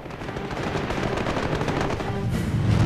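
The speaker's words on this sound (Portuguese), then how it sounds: "Os céus sobre o lago Balaton tremem com o barulho dos motores e das rajadas de tiros de metralhadoras e canhões" Rapid bursts of machine-gun and cannon fire from P-51 fighter planes in aerial combat over Lake Balaton rattle continuously, dense and loud, with heavier booming shots mixed in and an aircraft engine drone beneath.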